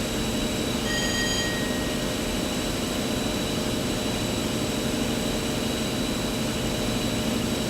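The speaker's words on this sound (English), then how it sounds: "just how different the HST sounds with the Valenta engine sound pack installed." A British Rail HST with a Valenta engine in Train Simulator 2016 roars steadily at full power while accelerating, a dense continuous engine drone with whining tones, loud and unbroken throughout.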